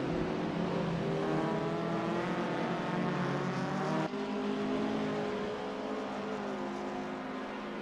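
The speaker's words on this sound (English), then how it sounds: "The roaring engines are echoing Lars's battle cry" Virtual 1000cc racing car engines at Tsukuba Circuit in the Assetto Corsa sim racing game drone steadily at a low, even volume, their pitch shifting slightly partway through with no break.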